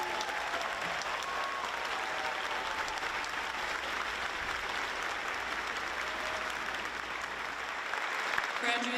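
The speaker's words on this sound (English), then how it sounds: "Let's give them a round of applause." Applause for graduates at a 2022 high school commencement ceremony, a broad sustained crowd clapping from a distance, even and continuous for the whole stretch, moderately quiet.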